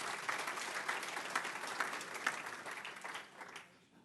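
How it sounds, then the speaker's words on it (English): Faint audience applause at a teacher centre manager workshop, a steady patter of many hands that trails off near the end. "Shall we give him another round of applause?"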